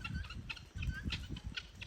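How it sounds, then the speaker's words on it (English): Guinea fowl in an African yard give a quick run of harsh, repeated clucking calls, fairly faint with low background rumble and no speech. "guinea fowl."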